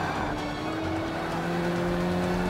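A Ford Focus race car engine in the Forza racing video game drones steadily at sustained revs, a continuous loud tonal hum with no pauses and no talk.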